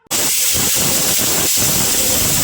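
A pressure cooker holding lentils and vegetables for idli sambar vents steam in one loud, continuous hiss that bursts on abruptly and holds steady to the end, with no talking.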